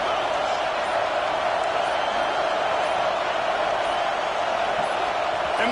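A packed stadium crowd in a college football video game roars in a steady, dense wall of cheering and noise that never lets up, loud and unbroken throughout.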